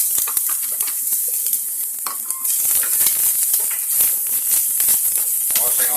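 Onions stir-fry in a hot pan for a pizza sauce, sizzling and hissing loudly while a utensil stirs in quick irregular scrapes, with a voice speaking over the frying.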